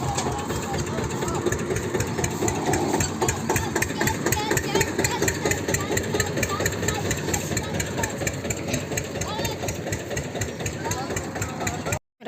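Tractor engine idling steadily nearby while paddy bags are loaded onto a trolley, a constant rumbling drone with knocks and clatter throughout and people talking over it.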